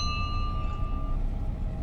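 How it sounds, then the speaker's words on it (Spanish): A single bell strike rings out loud and close, its clear metallic tone sustaining and slowly fading over about two seconds. "hacían sonar la campana."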